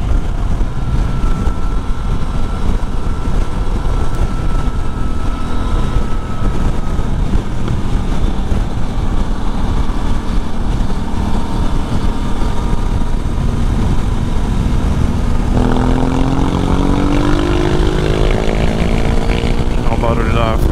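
A Yamaha Tracer 900 GT motorcycle engine runs loudly and close for a long stretch, rough, uneven and misfiring, with a rising rev toward the end.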